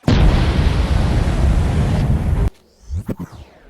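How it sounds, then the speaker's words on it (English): Miracle Fireworks Killer Torpedoes 7-inch canister shell launching and bursting at a 4th of July backyard show, a loud sustained roar and crackle for about two seconds that cuts off, followed by a few fainter pops. "Miracle Fireworks Killer Torpedoes 7-inch shells."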